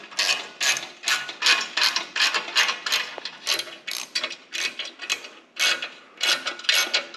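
A ratchet tightening nuts on a threaded all-thread rod gives close, loud rhythmic clicking in repeated strokes of several seconds each, separated by brief gaps, with no voices.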